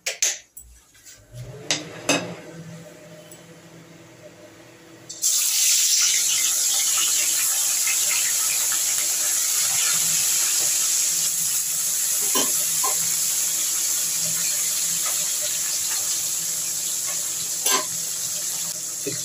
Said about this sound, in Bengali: আমি মাছগুলো এবার ভেজে নিই।